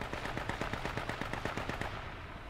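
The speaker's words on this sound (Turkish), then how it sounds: "Çok yakında silah sesi o." Rapid automatic gunfire nearby in the battle royale video game H1Z1, a steady run of evenly spaced sharp shots lasting over two seconds before tapering off.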